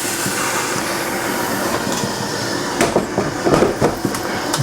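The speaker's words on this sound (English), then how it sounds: "Okay, so purge, really important. Knock any milk out of the steam arm." Loud, continuous hiss of an espresso machine's steam arm being purged, a sustained rush with brief sputtering bursts toward the end, heard alone without talk.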